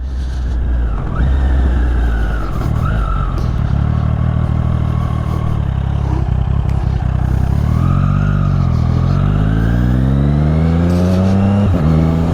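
A motorcycle pulls away on a narrow country road. The engine note climbs loud and close through rising revs and gear changes, with no talking over it.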